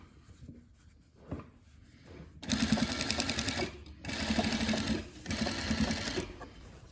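An industrial sewing machine stitches and backstitches in three loud, steady bursts of several seconds each, separated by short pauses, after a quieter lead-in with a few faint handling sounds.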